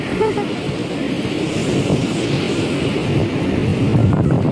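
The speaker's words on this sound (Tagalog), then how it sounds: "Lakas ng alon." Strong Adriatic sea waves at Borik Beach in Zadar, Croatia, make a steady, loud roar of surf mixed with wind buffeting the microphone, sustained throughout with no clear breaks.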